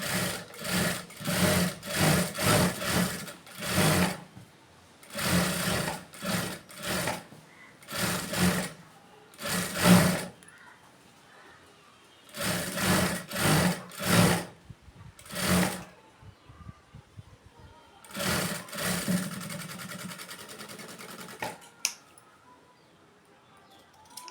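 A sewing machine stitches a cross piece onto a garment neckline in several loud close bursts of rapid whirring, separated by short pauses and a longer quiet stretch near the end.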